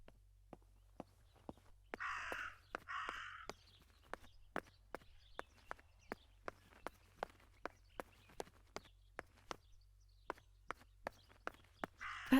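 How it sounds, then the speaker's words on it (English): A raven in the video game Martha Is Dead gives two harsh, loud caws early on, over a steady run of crisp footstep-like clicks and a low background hum. "That raven is making a big fuss."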